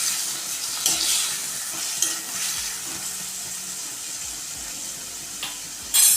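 Chopped tomatoes for Kathiyawadi sev tameta shaak sizzle in a pan while being stirred, a continuous close hiss broken by several soft scrapes and a sharper clatter at the end.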